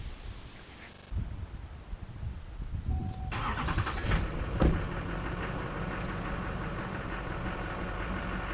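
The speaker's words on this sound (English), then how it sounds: "I'm going to go ahead and pull forward" A vehicle starts up and pulls forward with a tandem-axle trailer fitted with a 5 1/2-inch lift; after a quiet opening, the engine catches and holds a steady, moderately loud running drone.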